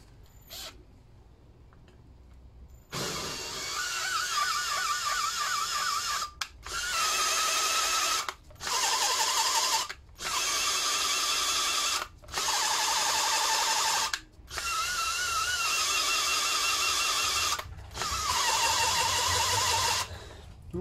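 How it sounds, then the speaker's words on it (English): Power drill laps a valve on a Lister D engine, running in repeated bursts of a few seconds each with short pauses, whining with a grinding, squeaky scrape close by. "And what I'm going to do is use a drill in this case, because Lister very kindly slotted the top of the valve, so we don't need to use the plunger."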